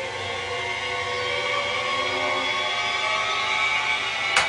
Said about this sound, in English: These are the rising violins.